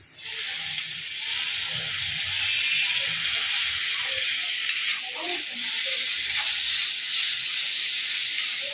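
Mushrooms tossed into a hot iron pan for a Kongu-style Pallipalayam dish with coconut and dried red chillies, giving a loud, steady sizzle and hiss throughout with occasional stirring scrapes, no talking.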